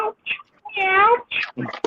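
A person's voice imitates a hurt cat meowing, with a long wavering wail in the middle framed by shorter yowling calls, loud and close.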